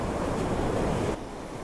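Sea waves wash onto the beach at Walcott beside a seawall while the sea is fairly flat, a steady close broadband surge mixed with wind noise that eases off abruptly near the end.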